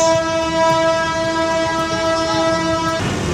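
A train horn blares one long, steady harmonic blast over the rumble of rail cars passing close by in Solo, Indonesia, then cuts off.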